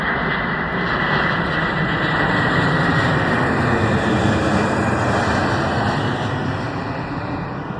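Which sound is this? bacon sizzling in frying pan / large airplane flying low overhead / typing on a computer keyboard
large airplane flying low overhead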